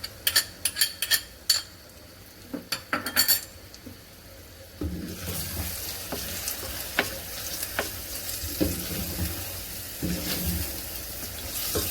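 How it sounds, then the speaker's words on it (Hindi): Onions fry in oil with turmeric and ginger garlic paste. A few light clinks and clatters open, then a steady, close sizzle runs through the rest with occasional stirring scrapes. "अनियन को लाइट गोल्डन सा कलर में फ्राई कर लें।"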